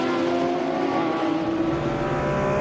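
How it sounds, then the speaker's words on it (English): GT race cars at Zolder circuit hum steadily from a distance, a continuous engine drone with no single car standing out. "Frederik Jonker already up to fourth on the bumper of Patrick Lamster in the GTB race."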